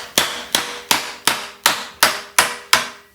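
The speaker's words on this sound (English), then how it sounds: "We're probably going to have to do a little hammering and dolly work on it" Eight sharp metallic strikes of a hammer on sheet metal backed by a dolly ring out at a steady, even pace, each one bright and close with a short ringing decay.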